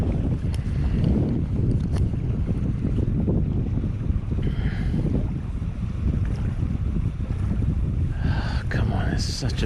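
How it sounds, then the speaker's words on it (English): A boat passes on a backcountry New Zealand river during trout fishing, its low rumbling engine noise mixed with heavy wind buffeting the microphone and moving water, fairly close and sustained. "There's another boat coming along here."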